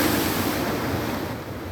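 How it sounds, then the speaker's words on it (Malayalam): Sea waves surge onto a Kerala coastline near houses during a rain alert, a continuous loud roar of surf and wind-blown water without speech. "ഭീതിയും ആശങ്കയുമായാണ് ഈ തിരമാലകൾ തീരദേശവാസികളുടെ വീടുകൾക്ക് സമീപത്തേക്ക് ഇരച്ചു കയറുന്നത്"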